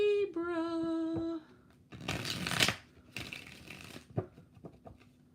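Tarot cards shuffled by hand in a few close, crisp riffling bursts, with a soft tapping and settling of the deck between them and a brief tonal sound before the first shuffle.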